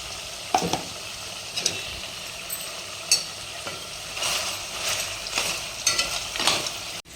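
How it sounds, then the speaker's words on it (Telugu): Ginger paste frying with mutton curry in a pan over low heat, a steady close sizzle with occasional stirring scrapes and clinks, no talking. "చూడండి ఇప్పుడు అల్లం వేస్తున్నాం కదా ఇది సిమ్లోనే మగ్గాలి"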